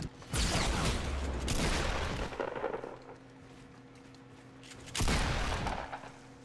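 Two heavy gunshot blasts from a Fortnite battle royale match ring out with long rumbling tails, the first lasting about two seconds and the second arriving after a pause, loud and close with no talking.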